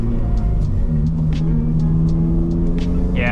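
Subaru BRZ driving with a steady low engine drone and harmonic hum from inside the cabin, holding an even road rumble throughout.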